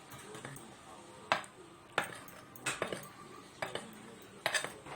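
A metal spoon stirs a flour mixture in a bowl for a chocolate cake, giving a few sharp, separate clinks and scrapes against the bowl in an irregular rhythm, close and fairly quiet, with no talking.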